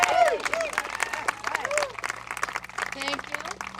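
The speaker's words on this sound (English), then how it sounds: "Give a round of applause for Liz Streeter." Scattered applause from a small community crowd at a co-op groundbreaking gathering, fairly light and uneven, mixed with nearby voices and chatter.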